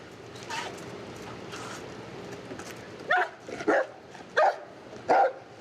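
A police dog barks during a roadside car search, four sharp, loud barks in quick succession after a few softer, distant yips and whimpers.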